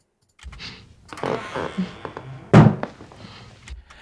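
Dry, close door thumps and clicks, including a sharp slam near the middle, with little room echo.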